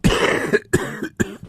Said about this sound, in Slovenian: Samo me kašlj, me matra.